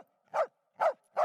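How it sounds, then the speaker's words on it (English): An elderly dog barks three times indoors, each bark loud and close, evenly spaced with short silent gaps between. "No barking, Henry."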